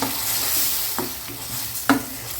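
Ground tomato paste sautés in a pan for a simple mushroom gravy, a steady close sizzle with two brief spoon scrapes, and no voices.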